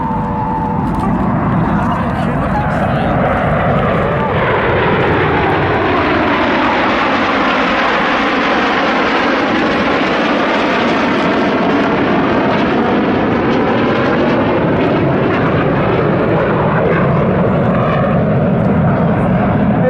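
Red Arrows RAF aerobatic jets roar past in formation at the Southport Airshow, a loud sustained jet-engine rush that swells and sweeps with a clear Doppler shift as the team flies down the line.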